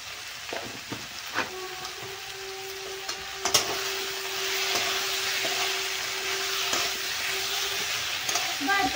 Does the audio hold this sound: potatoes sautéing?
yes